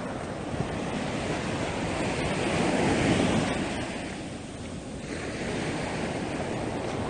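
Sea waves roll onto Haeundae beach in Busan, a dense, continuous roar of surf with wind buffeting the microphone, swelling louder around the middle and easing off, with no talking.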